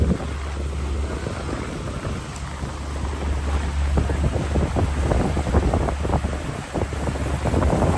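Steady wind blows over a deep-sea fishing boat off Kona, Hawaii, with a continuous low rumble and buffeting hiss on the microphone throughout, no talking.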